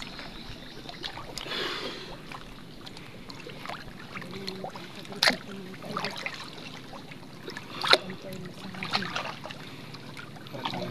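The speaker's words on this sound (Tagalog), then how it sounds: "Puro bangka na yun ang tumutunog" Motorboats (bangka) run on the water off Burias Island, a faint, steady, distant drone with occasional sharp knocks and splashes.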